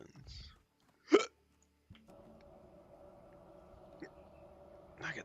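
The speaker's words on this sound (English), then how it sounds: "I got the hiccups from eating too fast." A person hiccups several times, each one a sudden sharp catch of breath, spaced apart over a low steady background hum.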